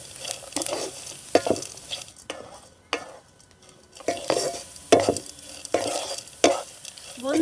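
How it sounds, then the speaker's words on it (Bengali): Onion and chopped carrot stir-fried in a pan for suji upma, with steady sizzling and frying broken by repeated scraping stirs of a spatula against the pan, close and moderately loud, with no talk. "তো এবার আমি এখানে দিয়ে দেবো অল্প একটু গাজর কুচি, দিয়ে আবারও 2 মিনিট মতো সব কিছু একটু ভেজে নেব।"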